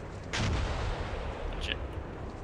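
Gunfire in the Steel Beasts Pro tank simulator during a winter operation: a single loud, low booming shot with a sharp crack, followed by a rumbling tail and a faint second report.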